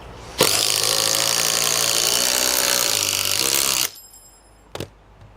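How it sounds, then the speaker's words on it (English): A Makita 40 volt impact driver powered by an 18 volt battery starts abruptly and runs loud and steady for about three seconds, a harsh buzzing whir, then cuts off, followed by a brief click. "What about the impact drivers?"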